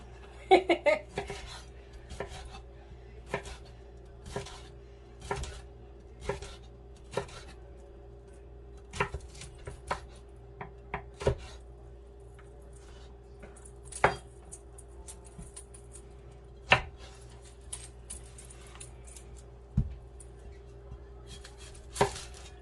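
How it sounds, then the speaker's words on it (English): A knife chops an onion on a cutting board while making salt and pepper shrimp at home: a run of sharp, close, irregularly spaced strikes over a low, steady background hum. "I'm gonna chop up the onion"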